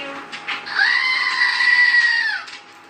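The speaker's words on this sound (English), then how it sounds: "You gotta get the screaming goat." A screaming goat novelty toy lets out one long, shrill, bleating scream lasting about two seconds, loud and close, with faint background noise around it.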